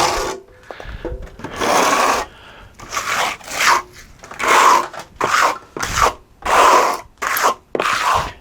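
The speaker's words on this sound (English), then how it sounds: "The old margin trowel trick." Steel margin trowel scraping across a stucco wall during expansion joint repair, heard as a series of rough, gritty rasping strokes in bursts of about half a second to a second, close and fairly loud.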